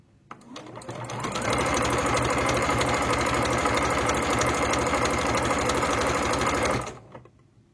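A sewing machine sews a zigzag stitch on fine, thin scarf fabric: the motor speeds up, holds a fast, even, loud chattering whir for about five seconds up close, then stops.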